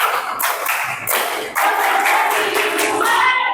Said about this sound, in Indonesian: Baik semuanya, tepuk konsentrasi.